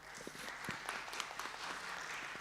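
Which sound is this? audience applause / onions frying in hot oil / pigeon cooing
audience applause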